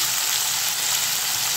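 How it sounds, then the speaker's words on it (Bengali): Chopped onions fry in a pan of oil with cardamom, cinnamon, bay leaf, dried chilli and whole cumin, giving a steady, close, even sizzle that stays unbroken throughout. "পেঁয়াজটাকে আমি ভাজা ভাজা করে নেব।"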